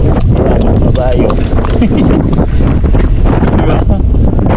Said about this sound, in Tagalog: Ayan, may kabayo.